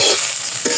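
Green chillies sizzle loudly in a hot frying pan as they are stirred, a dense continuous crackle with a brief scrape of the spoon near the end, close and without talk.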